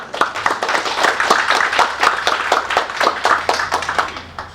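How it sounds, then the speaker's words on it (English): Audience applause for a young speaker at the launch of a national survey on violence against children in Kenya, a steady burst of many hands clapping at close range, even and sustained for several seconds before easing slightly at the end. "may I request that we give her another round of applause."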